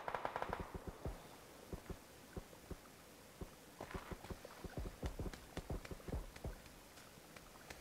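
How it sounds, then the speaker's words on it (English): PUBG gunfire: rapid bursts and single shots crack out irregularly, some near and sharp, others more distant, in quick clusters over a faint background. "So much goddamn shooting."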